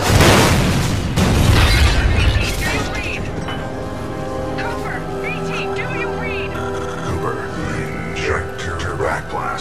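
A fold weapon is fired upon in Titanfall 2, setting off a loud, deep explosion that booms at the start and then rumbles on amid layered mechanical and sci-fi effects, with voices speaking over the tail.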